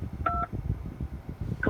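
Two short telephone keypad tones beep close and clear during a call to customer support, one early and one at the very end, over a low rumbling background.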